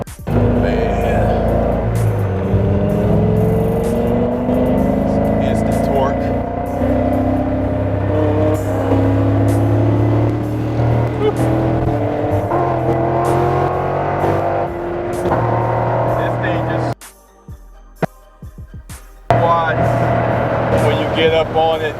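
A 750 rear-wheel-horsepower C6 Corvette roars loudly and continuously while driving, its engine note climbing and settling through revs, with a brief drop near the end before it surges back; someone talks over it throughout.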